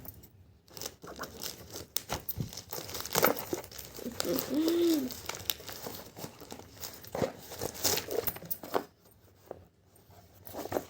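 Packaging crinkles and crackles while a taped parcel is unboxed, with busy handling noise, tearing and rustling bursts throughout and a brief tonal squeak partway through.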